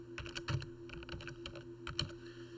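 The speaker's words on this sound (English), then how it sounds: "we're going to hit the space bar and type TEC logo" Steady typing on a computer keyboard while entering a caption in a word processor, including a press of the space bar; a continuous patter of close, crisp key clicks over about two seconds with no talk.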